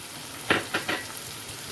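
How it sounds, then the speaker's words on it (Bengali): Green chillies hit a pan of frying prawn masala, giving three short sizzling bursts in quick succession over a soft, steady background hiss, close and moderately quiet. "দেখুন ভাজা ভাজা হয়ে গেছে, এবার আমি এর মধ্যে কাঁচা লঙ্কা দিয়ে দিচ্ছি।"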